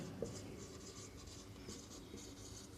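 Marker or chalk writing on a board during a maths lesson, a faint, quiet scratching of short strokes and pauses in a roomy space with low background hum.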